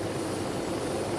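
A helicopter flies in an old monster action film, heard as a brief, steady engine and rotor drone at moderate loudness with no talking over it.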